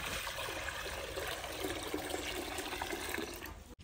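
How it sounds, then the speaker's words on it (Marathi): Water pours into a kadhai on the stove, a steady rushing splash that continues close and even, then cuts off abruptly at the end. "आपण आता चुलीवर कढई ठेवून घेऊ, त्यात पाणी टाकून घेऊ।"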